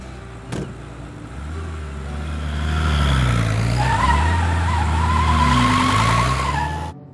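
A car engine hums steadily, rising and falling in pitch with tyres squealing as the vehicle drives and turns, with no voices heard.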